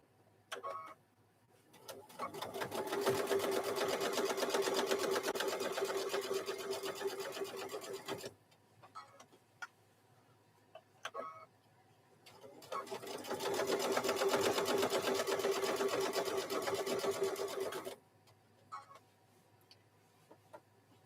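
A sewing machine stitches a microwave bowl koozie in two long bursts of rapid, even whirring, each lasting several seconds and separated by quiet pauses with small clicks.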